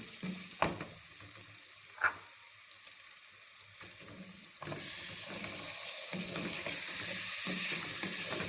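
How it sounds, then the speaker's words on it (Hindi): Tomatoes go into hot, fried masala for tinda (gourd) keema, giving a steady frying sizzle with stirring clatter; the sizzle swells louder and brighter midway as they hit the pan, continuing alone without talk. "अब हम इसमें टमाटोज को ऐड कर लेंगे।"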